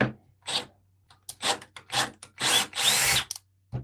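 A Milwaukee M12 compact cordless drill in drill mode with no clutch runs in a series of short bursts of varying length, loud and close, separated by brief pauses.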